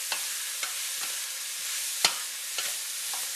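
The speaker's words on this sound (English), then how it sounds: "Now let's get all this stirred in there" Meat with cumin stirred in a hot pan: a continuous soft sizzle broken by several spaced utensil scrapes and knocks, one sharper clack near the middle; close, moderate level, no voices.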